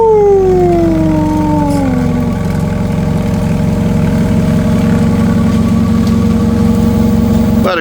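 A forklift lifts a person up in a warehouse, a loud close motor whine that slides down in pitch as the lift starts, then settles into a steady hum over an engine drone.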